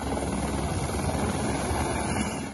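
A fire department helicopter flying over Rio de Janeiro, its rotor and engine giving a steady, loud, dense whirring drone that holds unchanged throughout, with no voices.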